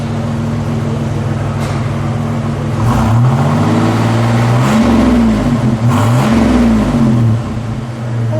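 A 1979 Buick Century Turbo Coupe engine revs up several times from a steady idle, rising and falling in loud, throaty sweeps close by, then settling back to idle.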